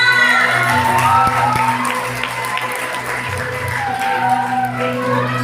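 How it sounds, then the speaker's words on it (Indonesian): An audience at a Betawi silat competition prize announcement claps and cheers for the winners. The sound is a loud, continuous crowd noise with shouts and voices mixed in. "Hadirin yang berbahagia, sekali lagi beri tepuk tangan untuk para pemenang."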